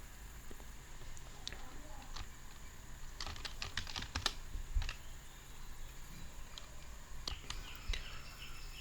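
Scattered keystrokes on a computer keyboard as a Windows command is entered, faint clicks in short bursts against a quiet room hum.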